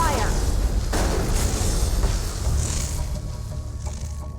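Gunfire in the Mass Effect video game, a loud opening burst of booming weapon shots and impacts that settles into rumbling combat noise, with a voice heard briefly in the mix.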